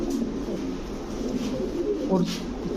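Pigeons coo repeatedly at a loft where Budapest, racer and pouter breeds are kept, a soft steady murmur with a few clearer calls near the end, under faint background talk.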